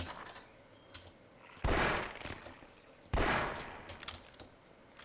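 Two loud, sharp gunshot blasts about a second and a half apart in the video game Half-Life: Source, each with a brief ringing tail, between faint clicks and quiet background noise.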